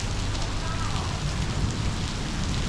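Steady rain falls on a street in Taipa Village, Macau, pattering on a rain guard overhead, a dense, constant hiss with low rumble that stays close and even throughout, with no talk.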